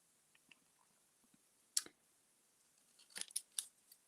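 Plain scissors fussy cutting paper images: faint, sparse snips and a few scattered clicks, then a brief cluster of crisp cuts, close by and quiet, with no talking.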